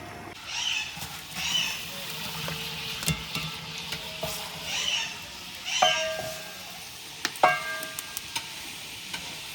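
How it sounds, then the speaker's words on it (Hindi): Meat frying in a pot with onions browned to golden, stirred with intermittent scraping clatters over a steady sizzle, heard up close in a Pakistani village kitchen, with a few sharp utensil knocks and faint background voices. "प्याज हमारे गोल्डन ब्राउन हो गए थे अच्छे तरीके से, और उसके साथ हमने डाल दिया गोश्त।"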